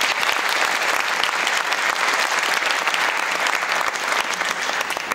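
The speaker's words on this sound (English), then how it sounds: "And give them a round of applause," An audience at a school band concert claps in steady, dense applause that stays loud and even throughout, with no voices standing out.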